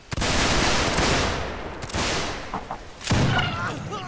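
Musket volley fire rolls out in a video game line battle, a loud, dense crackle of many shots at once that stays sustained, then further ragged bursts sound near and far while voices talk faintly underneath.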